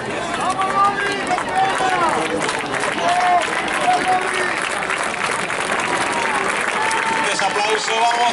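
Crowd applause and cheering ring out at a veterans' 1500 m track race in Spain, a steady wash of clapping with voices and a commentator talking over it throughout.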